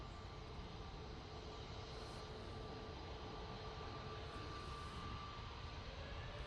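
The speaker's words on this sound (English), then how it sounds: "next out we've got the Easyjet A321neo going off to Athens" An easyJet Airbus A321neo departs Manchester for Athens, its engines giving a steady, fairly faint broadband roar with a thin whine running through it, unchanging for the whole stretch with no voices.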